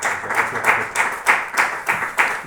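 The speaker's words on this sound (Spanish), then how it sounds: "os pediría un aplauso para Pepe" An audience at a book presentation applauds in a steady round of clapping that pulses rhythmically, close and fairly loud, with no talk over it.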